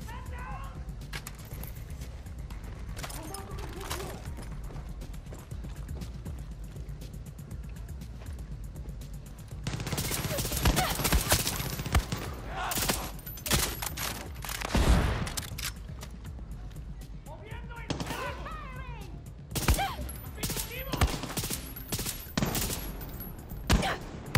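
Bursts of automatic gunfire in the Far Cry 6 video game, rapid volleys clustering in the second half with sharp cracks, while a player talks over much of it.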